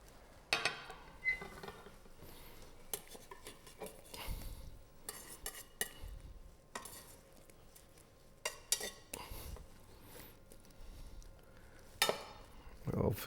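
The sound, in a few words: scraping food stuck to the bottom of a pan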